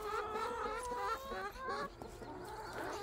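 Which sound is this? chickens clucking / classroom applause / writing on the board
chickens clucking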